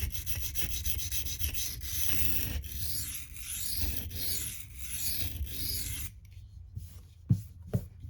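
M390 Manix 2 knife edge drawn across a 240-grit sharpening stone, close rhythmic gritty rubbing strokes for about six seconds, then quiet with a few light knocks.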